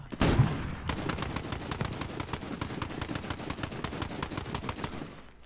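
Rapid automatic gunfire in Call of Duty: Warzone, a loud sustained burst of closely spaced shots lasting several seconds after an initial heavy blast, with no talking.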